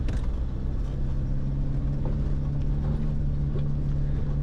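A vehicle climbing an alpine track in Victorian High Country gives a steady, loud engine drone with a constant low hum and faint rattles, unbroken and without talk.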